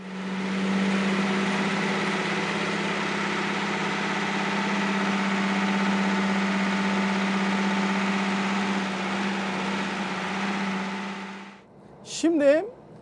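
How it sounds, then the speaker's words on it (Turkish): Rear-mounted inline six-cylinder engine of a Mercedes O403 coach, heard from the back of the bus: a steady low idling drone with a constant hum for about eleven seconds, then a brief louder whine at the end. "Arka tarafta. Evet, burada çok belirgin motor sesi."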